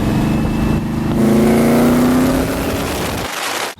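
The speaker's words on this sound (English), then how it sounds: "we have a classical V8 engine with two overcam camshafts" A TVR Griffith V8 with twin overhead camshafts revs up loudly, its deep rumble climbing in pitch and then easing off before cutting away abruptly.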